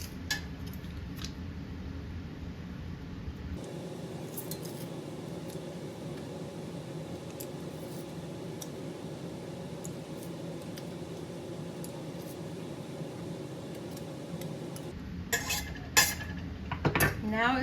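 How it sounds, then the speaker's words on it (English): Garlic pressed into a pot while making homemade spaghetti sauce: metallic clinks and scrapes of the press and utensils against cookware, fairly close, with a low steady background and a few sharper clanks near the end. "now I'm going to press my garlic into the pot"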